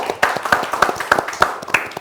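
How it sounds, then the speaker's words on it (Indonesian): Studio audience applause for guests on a TV talk show, a brisk run of close, crisp hand claps at a steady rhythm lasting about two seconds. "Tepuk tangan untuk mereka semua."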